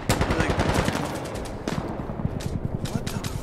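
Rapid automatic gunfire in the video game Insurgency Sandstorm: dense bursts of loud, close shots fired in quick succession, a brief pause, then more sustained rattling fire, with a voice faintly underneath.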